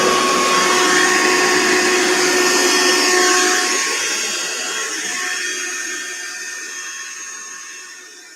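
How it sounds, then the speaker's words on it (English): A vacuum cleaner runs steadily while cleaning the platforms of a model train layout, a loud continuous whine and rush that holds strong for several seconds and then gradually tapers off toward the end. "I'm going to get my vacuum out and just vacuum off the platforms here"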